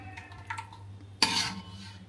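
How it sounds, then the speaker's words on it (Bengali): Pumpkin peel is fried and stirred in a pan, with soft clinks early on, then a sudden loud scrape and sizzle of a utensil against the pan, nearby. "এই যে কুমড়োর চোচা এখন ভাজি করতেছি বন্ধুরা"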